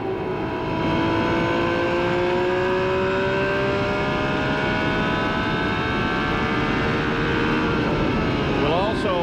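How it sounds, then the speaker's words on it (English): A 1996 IRL Indycar engine at the Phoenix oval race howls loud and close in onboard view, its pitch climbing and falling steadily as the throttle is worked, with a commentator talking over it. "Well, let's just ride with him and listen for a moment here. See how he works the throttle."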